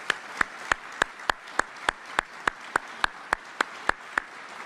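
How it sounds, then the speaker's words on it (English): Slow, evenly spaced single hand claps, about fifteen sharp strikes in a steady rhythm over a faint room hum, offered as applause for a fallen soldier's family at a U.S. Army Medal of Honor induction ceremony. "And let's give them all a round of applause,"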